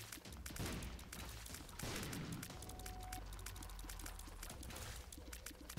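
Explosions and rapid gunfire-like blasts rattle through The Binding of Isaac: Afterbirth Plus gameplay, a dense continuous barrage of bursts with a brief tonal whine in the middle and no talking.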